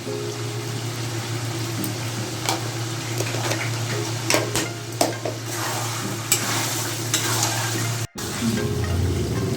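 Chicken kosha being stir-fried in a pan with spices, a continuous oily sizzle broken by scraping stirs and occasional sharp knocks of the spoon, close and fairly loud, with a brief cut near the end.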